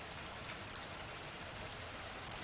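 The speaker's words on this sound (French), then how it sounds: "Sous la couette, juste d'écouter cette pluie qui coule. Alors écoute la pluie." Steady rain falls in a soft, even hiss with a few louder individual drops ticking through, continuous and fairly quiet, with no voices.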